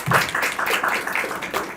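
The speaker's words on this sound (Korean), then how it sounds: "박수 한번 해주시기 바랍니다" An audience at a Korean presidential election debate forum claps in a brief, fairly loud burst of dense applause.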